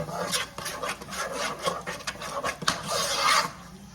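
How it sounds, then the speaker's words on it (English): Taco meat being stirred in a pan with a utensil, making steady rasping, scraping strokes against the pan surface, close and fairly quiet, repeating through the whole stretch without talk. "And stir it up real good"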